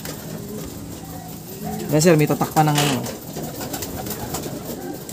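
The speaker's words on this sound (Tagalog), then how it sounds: "Ito actually, maliit na ibon to sir eh." A small bird coos twice in quick succession, close by and fairly loud, with a voice talking around it against light background noise.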